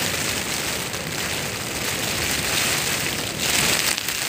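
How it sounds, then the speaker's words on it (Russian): Steady rain pouring down during a thunderstorm by the sea, a dense continuous hiss of drops hitting surfaces under trees, swelling slightly louder near the end. "Всю жару сейчас собьет вот этот дождь."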